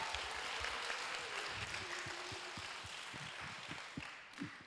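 A hall audience at a youth policy debate forum applauds at length, a dense, steady wash of many hands clapping, moderately distant, with no voices over it.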